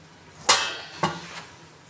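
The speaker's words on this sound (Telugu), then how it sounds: "ఇప్పుడు రైస్ యాడ్ చేసుకుందాము." Rice is tipped into a pot of simmering keema biryani, giving two or three soft metallic clinks and splashes over about a second, close up and quiet, with no talking.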